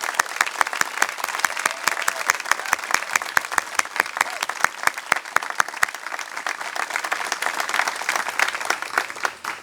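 An audience at a school closing ceremony claps for a class, dense steady applause with sharp individual claps standing out, continuing for about nine seconds.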